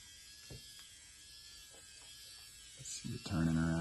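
A small electric motor in a Lexus power mirror assembly turns, a faint whir under quiet talk that becomes a louder close buzzing hum in the final second.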